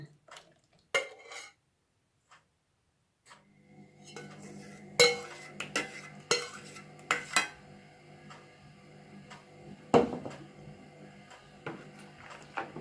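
A spoon stirs coconut milk ice cream mixture in a container, with clinks and scrapes against the sides in uneven bursts, close and fairly loud, with quiet gaps between strokes.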